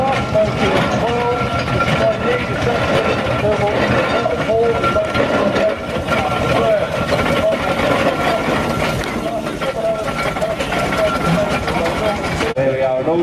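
Steam traction engines, Burrells and an Orchard engine built in Northampton, rumble past in a parade at the Strumpshaw steam rally. The mechanical chuffing and clatter is steady and continuous, with crowd and commentary voices mixed in.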